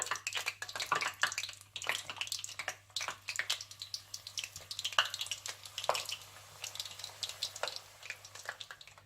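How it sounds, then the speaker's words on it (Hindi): Chicken and vegetable rolls deep fry in oil, giving a light, crackling bubble with irregular pops and spits, fairly faint and close, with no talking over it. "इसी तरह से आप सारे रोल्स फ्राई कर लीजिएगा।"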